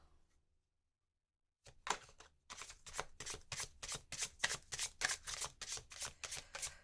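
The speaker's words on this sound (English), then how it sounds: "Let's pull some more cards." Tarot cards are shuffled by hand after a short silence, a close rhythmic series of crisp riffling flutters repeating about a dozen times in quick succession.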